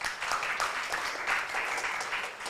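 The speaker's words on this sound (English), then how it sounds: "let's give some applause to both teams" Steady applause from a crowd at an English debating competition semifinal, many hands clapping at once, continuous and even throughout.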